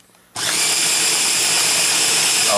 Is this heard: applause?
no